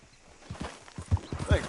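Horse hooves clip-clop on the ground in Red Dead Redemption 2, a handful of uneven steps drawing closer and growing louder as the horse slows, with faint voices in the background.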